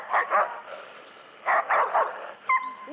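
Sled dogs bark, yip and snarl while fighting, in rapid overlapping bursts close by with a few whimpering whines mixed in.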